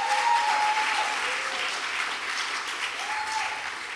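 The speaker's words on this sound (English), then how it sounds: "Let's give them a round of applause as well." A round of applause rises from the audience at a university event honoring student activism, steady and moderately loud, with a faint voice briefly audible beneath the clapping.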